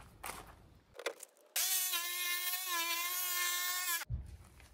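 A saw cuts holes in the metal panel of a converted van while a P17 socket base is fitted, a loud steady whining tone with strong harmonics for about two and a half seconds, with softer handling noises before and after.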